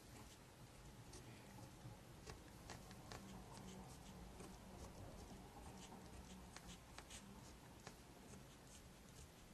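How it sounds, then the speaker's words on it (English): A black gel pen scratches steadily across paper, drawing stitch lines around a cut-out paper letter, with a continuous soft scribbling texture and small taps throughout, close and quiet. "I'm just going to go around the outside of the letter, just adding some stitch lines."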